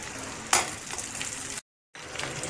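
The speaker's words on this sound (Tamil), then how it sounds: "இஞ்சியும் பூண்டும் வதங்கின பிறகு நீங்க வெங்காயத்தை ஆட் பண்ணி வதக்கிக்கோங்க" Onions with ginger and garlic sauté in a pan for chilli chicken, a steady close sizzle with scraping stir strokes and a sharp clink near the start, cut by a brief gap of silence.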